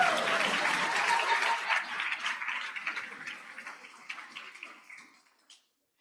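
A convocation audience applauds, steady dense clapping filling the hall, then gradually thinning and fading out to silence near the end.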